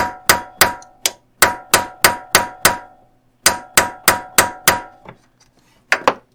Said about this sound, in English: then we'll go again with the air hammer